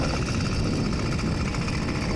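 A stock YD100 bike engine runs steadily up close, giving a continuous, even rumble with a buzzy, rough texture and no talking over it.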